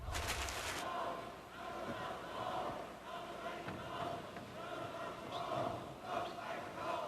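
A spirited sports crowd roars in a continuous wash of cheering and shouting, sustained and fairly distant, with a brief louder burst at the start.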